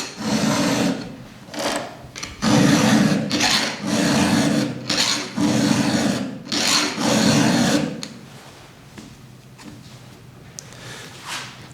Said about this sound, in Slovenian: V tem primeru si lahko pomagamo z globinskim zobom, na katerega naslonim pilo in jo potegnem nazaj.